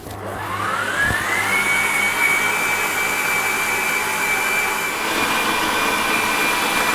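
A kitchen blender or mixer runs steadily while mixing brioche dough, a loud continuous whirring drone with a high whine that rises as the motor spins up and then holds constant throughout, with no voices.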